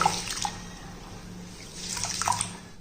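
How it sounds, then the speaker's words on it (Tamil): Pearl millet is kneaded and washed by hand in a vessel of water, giving soft sloshing, squelching and splashing sounds up close, with the splashes picking up near the end. "கம்பை நல்லா நல்லா பிசைஞ்சு விட்டோம்னா கம்பில் உள்ள டஸ்ட்டுகள் பூரா நல்லா நம்மளுக்கு தண்ணியில் வந்துடும்"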